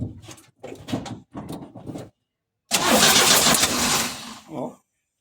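A Chevrolet Del Rey with a noisy timing chain is cranked and catches, a loud burst of engine noise that runs steadily for about two seconds, preceded by people talking nearby and followed by a brief voice.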